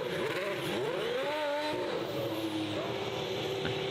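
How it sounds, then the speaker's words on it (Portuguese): Mercedes Formula 1 car doing donuts at the Goodwood Festival, a loud continuous engine whine that climbs and falls with revs, heard from a distance over crowd ambience. "A da Mercedes, pelo jeito, gostou de fazer zerinho"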